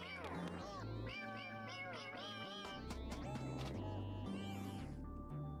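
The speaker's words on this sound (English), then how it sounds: "There's two cats, there's three cats." Several cats meow repeatedly in the video game Boti Byteland Overclocked, with bright, wavering mews overlapping above a steady game music backdrop and faint talk.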